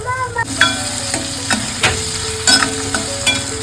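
Onion and garlic sauté in a pan as tomato is added, a steady sizzle broken by repeated scraping stirs and clinks of a spoon against the pan, close and fairly loud, no talking.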